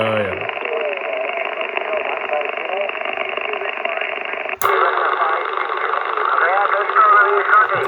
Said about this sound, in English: static noise that sounds like a car engine ignition